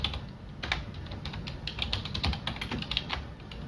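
Fingers type a location on a computer keyboard, a steady patter of quick, close key clicks with no speech.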